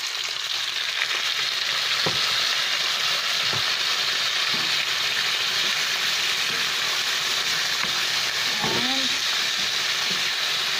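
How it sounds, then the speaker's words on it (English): Pork stir fry with soy sauce sizzles on high heat in a loud, constant hiss close by, with a few faint clinks of a utensil against the pan and no talking. "When you are cooking stir fry, you should always use high heat. And then we're going to add soy sauce."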